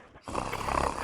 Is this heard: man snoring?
yes